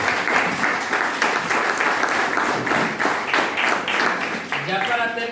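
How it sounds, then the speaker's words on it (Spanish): A church congregation claps together in a steady, rhythmic applause that fills the room, with a voice rising over the clapping near the end. "Pueden darle un fuerte aplauso al Señor en esta mañana."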